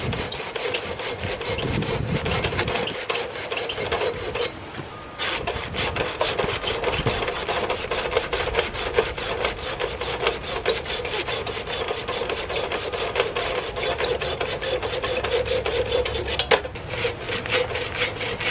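An Agawa Canyon BOREAL21 folding buck saw cuts through wood with rapid, steady back-and-forth rasping strokes, close and loud. One brief pause near the start breaks the continuous rhythm, and no one talks.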